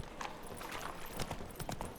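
Roach the horse galloping in The Witcher 3, quick rhythmic hoofbeats thudding steadily over two seconds, moderately close and alone without talk.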